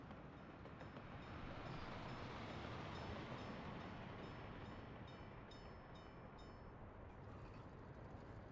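A freight train rolls along in the Workers & Resources: Soviet Republic video game, a steady low rumbling drone with faint clicking, continuous and fairly quiet, with no talk over it.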